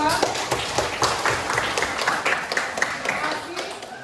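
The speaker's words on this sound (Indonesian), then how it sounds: "Oke, kita beri aplaus untuk kelompok 2." Applause for a student group after their presentation in a classroom lesson, a steady patter of many hands clapping at moderate loudness, with some voices mixed underneath.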